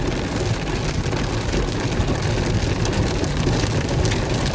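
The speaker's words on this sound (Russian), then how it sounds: "вот нам повезло, блин, с этим дождем второй день" Rain drums steadily on a moving car during a drive, a dense, loud, unbroken hiss with a low road rumble underneath and no voices.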